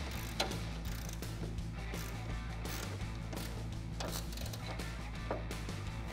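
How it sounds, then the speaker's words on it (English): A 16mm ratcheting wrench clicks in fast, steady runs while tightening bolts on a RedRock 4x4 HD tire carrier on a Jeep Wrangler JK tailgate, with a faint low hum underneath. "Using a 16mm ratcheting wrench and a 17mm wrench, tighten down the hardware that holds this eyelet to your backing plate"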